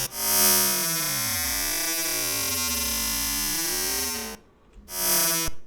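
An analog synthesizer sustains a held note, its buzzy harmonics sliding up and down as the pitch wheel bends it, loud and alone; the tone cuts out briefly, then returns with a short burst.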